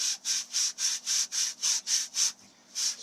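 Rhythmic back-and-forth scrubbing of the clogged outer surface of a Berkey water filter element, about ten even strokes with a short pause near the end, close and steady with no talking.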